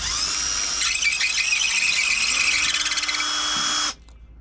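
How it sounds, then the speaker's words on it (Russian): Cordless drill driver drilling out rivets on a DAF truck, a loud close whining buzz held for a few seconds under load before cutting off abruptly. "Чтобы этого не было, взял с дома шуруповерт."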